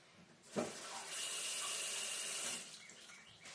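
Tap water runs steadily into a sink as avocados are rinsed, a continuous splashing hiss that starts with a sharp burst and carries on for a couple of seconds before easing off, close by with no talking.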